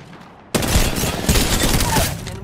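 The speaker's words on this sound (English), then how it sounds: "They're shooting at me." Dense video-game gunfire from enemies in a shootout, erupting abruptly after a quiet half-second and continuing as a loud, sustained barrage of overlapping shots to the end.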